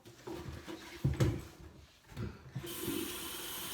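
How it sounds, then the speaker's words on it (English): Running tap water at a bathroom sink as someone rinses oil off their face, with soft splashes and intermittent bursts, then a steadier hiss of flowing water toward the end; fairly quiet and close. "And then we just rinse it off."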